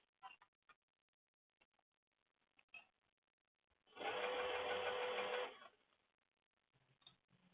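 A sewing machine stitches a leather tote bag in one steady, fairly loud burst of about a second and a half, surrounded by quiet clicks and handling noises of the material.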